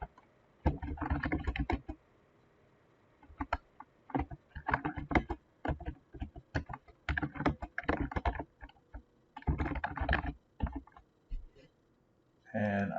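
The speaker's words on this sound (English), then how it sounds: "I add a comment and say Sarah." Bursts of keystrokes on a computer keyboard as a comment is typed, clicking in short irregular clusters separated by brief silent gaps, close and clear.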